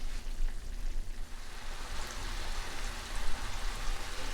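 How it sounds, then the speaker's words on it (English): A dense crackling sizzle from macaroni cooking in a pan as the water boils off, continuing steadily up close with no talking. "you're going to start to hear it sizzle versus bubble"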